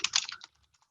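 A quick burst of typing on a computer keyboard, several close, crisp key clicks over about half a second before trailing into quiet.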